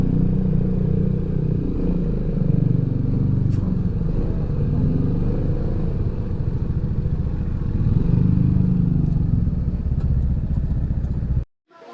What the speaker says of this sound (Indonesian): Jadi motor kita parkirin di sini.